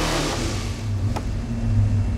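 A big block Chevy 572 V8 with 9.7:1 compression on 93-octane pump fuel, running on a dyno, revs hard under load with a steady loud roar throughout.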